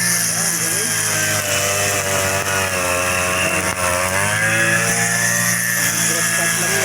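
A grass cutter engine runs loud and steady throughout, with its high-pitched whine holding close and constant, while a voice talks over it.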